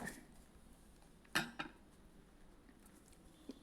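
A plastic set square and ruler are placed and shifted on a page for drawing parallel lines, giving two quick, close clacks followed by a faint tap in otherwise quiet surroundings.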